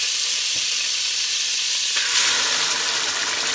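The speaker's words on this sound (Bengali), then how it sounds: "1 টেবিল স্পুন বাটার দিয়ে দিচ্ছি।" Butter hitting a hot pan during a butter chicken preparation, a steady close sizzle that swells and brightens after a couple of seconds, frying on alone with no talk.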